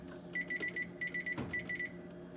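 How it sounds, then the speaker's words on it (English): A kitchen oven timer being set while yeast rolls bake, giving repeated short electronic beeps in quick bursts, fairly close and clear with a brief knock partway through. "We're going to set the timer for about 10 minutes."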